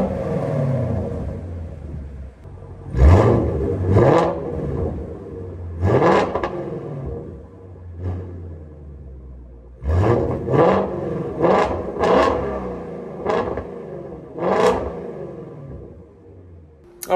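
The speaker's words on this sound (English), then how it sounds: "Let's go ahead and give it a couple revs in the driveway here." A Shelby GT350 with a new exhaust revved in a driveway, a series of sharp loud blips rising and falling in bursts of two or three, idling rumble between them.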